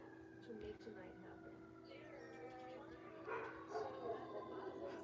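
Dogs barking and howling in the distance while alarms wail faintly, with a voice talking quietly under the sounds.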